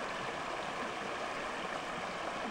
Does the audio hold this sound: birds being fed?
no